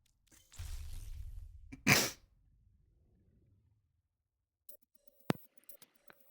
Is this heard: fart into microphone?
yes